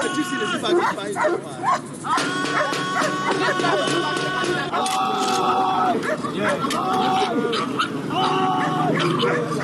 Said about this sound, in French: excite les chiens à l'attaque